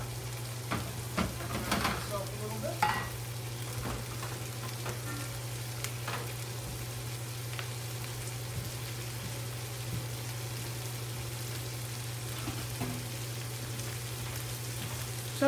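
Sausage sizzles and fries in a pan on the stove for a jambalaya, a soft continuous crackle with scattered pops and a steady low hum underneath.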